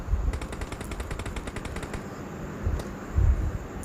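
Rapid automatic gunfire in the PUBG Mobile video game during a 1v1 match, a fast stream of sharp shots with short pauses, followed by a few heavier bursts near the end.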